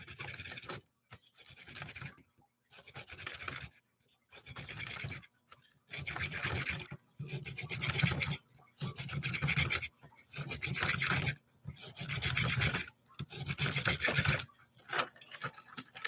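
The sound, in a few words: chiseling a rock in a crystal mining toy kit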